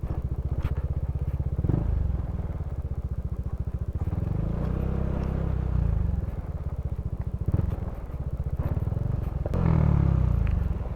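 A motorcycle rolls downhill on a bumpy dirt road, its engine pulsing in a steady low rumble that swells and dips with the terrain, mixed with rattles and the scrape of tires over loose ground.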